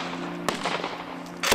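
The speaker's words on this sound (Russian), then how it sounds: "Вип-персонам и журналистам предложили пострелять из крупнокалиберных снайперских винтовок" Large-calibre sniper rifles and machine guns fire on an outdoor shooting range, two sharp loud reports about a second apart over a steady background hum.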